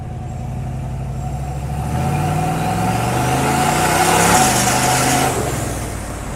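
A street-driven car with a Rossler transmission accelerates nearby, its engine note climbing and falling through a gear change, loud and with no talk.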